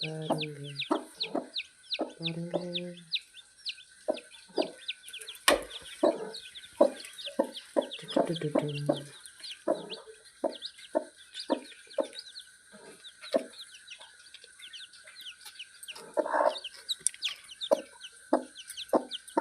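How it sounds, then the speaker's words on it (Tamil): A hen clucks low and repeatedly among a crowd of newly hatched chicks cheeping high and constantly, close by, with birds chirping in the background. "இங்கே பாருங்க எல்லாம் குஞ்சு பறிச்சிட்ருக்கு"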